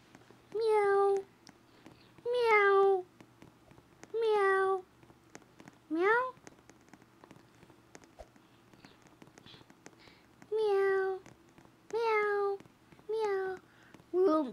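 A voice imitates a cat, repeating drawn-out meows one after another in a steady series of about eight calls with short pauses between, close and clear against a quiet background.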